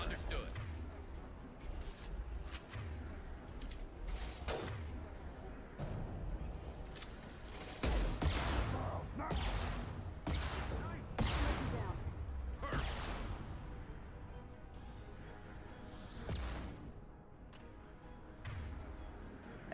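Sniper rifle and combat gunfire in Mass Effect Legendary Edition: a steady run of heavy close shots and booming impacts over a dense battle din, with voices talking throughout.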